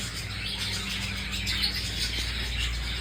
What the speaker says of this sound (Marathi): तुम्हाला पक्षी दाखवतो, पक्षी पक्षी आहे